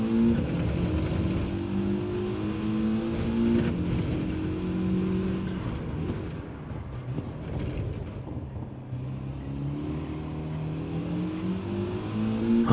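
A race car in Gran Turismo 7 accelerates hard, its engine climbing through gears in rising sweeps, loud and continuous with no voices over it.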